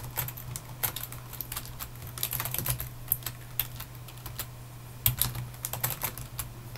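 Steady clicking of keys on a computer keyboard, irregular bursts of typing with brief pauses, close up over a low electrical hum.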